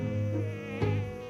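Mosquitoes buzz in a steady, whining drone close by, with a continuous harmonic hum and slight swells in loudness, heard alone without speech.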